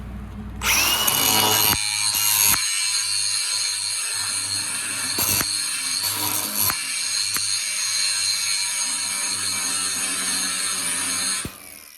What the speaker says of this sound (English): Need to grind this off right here.